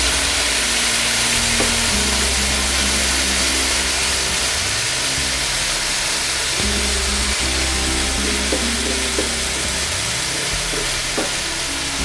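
Beef frying dry in a pan with no water, a loud continuous sizzle and hiss running throughout with occasional stirring scrapes, close and steady with no talk.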